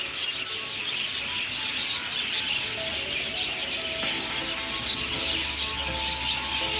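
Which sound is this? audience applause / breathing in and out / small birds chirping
small birds chirping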